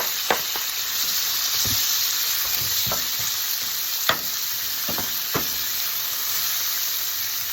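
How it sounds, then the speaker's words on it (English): Onions frying for Sicilian pepperonata, a loud continuous sizzle and hiss in the pan, punctuated by several sharp clicks and taps of a utensil against the pan. "Now I add the onions."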